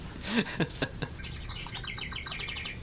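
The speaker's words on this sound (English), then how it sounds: "Oh, that's my clock. Well, tell it to shut up. It makes bird sounds every hour." A novelty clock chiming the hour with bird calls gives a run of rapid, fairly quiet chirps and tweets that repeat several times after a few knocks and thumps at the start.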